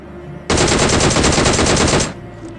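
Automatic gunfire from a video game battle royale match: a single sustained burst of rapid, loud shots lasting about a second and a half, close and dense, then stopping abruptly.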